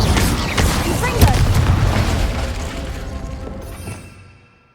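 Incendio fire spell cast in the video game Hogwarts Legacy: a dense booming whoosh of flame that bursts early, roars on for several seconds and fades away into silence.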